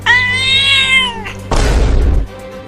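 A cartoon cat gives a loud, drawn-out, high meow lasting about a second, then a harsh, noisy hiss-like burst follows, all close and with no talking.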